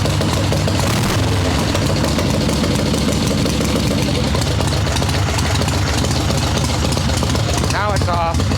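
Swap meet chopper motorcycle engine idling with the choke on, a loud, continuous low rumble throughout, with a voice briefly heard over it near the end.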